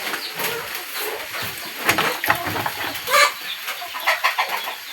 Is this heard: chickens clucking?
yes